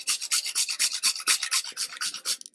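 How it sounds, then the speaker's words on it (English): A whole nutmeg rubbed on a mini grater makes a quick, steady rasping scrape, about a dozen close strokes in even rhythm, with no voices over it. "And then we get the grater, the mini one, and do like this."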